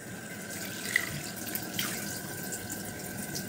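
Hot tap water runs steadily into a sink during face washing, a soft continuous splashing stream with a couple of small bumps, quiet and close with no speech.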